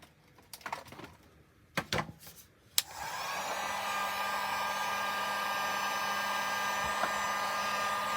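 A hair dryer or heat gun switches on and runs steadily with a loud, constant whir while heating a McFarlane DC Multiverse action figure, preceded by a few brief handling clicks and taps.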